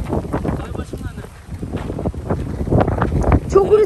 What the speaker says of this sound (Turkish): Çok rüzgar var burada.